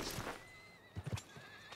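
A horse in Red Dead Redemption 2 whinnies faintly with a few short snorting bursts, over a quiet, hissy background with thin electronic tones.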